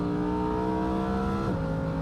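A Lamborghini supercar driving fast on the Isle of Man TT Mountain Course, a loud sustained engine roar with a steady high whine that drops in pitch partway through as it passes or shifts, close by.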